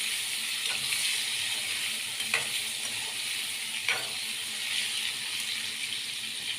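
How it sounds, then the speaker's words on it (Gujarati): Stuffed brinjals and potatoes sizzle in hot oil for a Kathiyawadi-style dish, a steady close frying hiss with a few faint clinks from stirring. "પછી એને થોડીક વાર આપણે તેલમાં સસડવા દઈશું"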